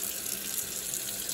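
Running tap water splashes steadily over a Levoit LV600S humidifier float as it is rinsed at a sink, a close, continuous hiss of flowing water with no talk.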